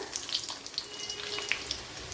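Gentle sizzling of chopped shallots frying in oil after mustard seeds, with scattered soft pops and crackles throughout. No voices.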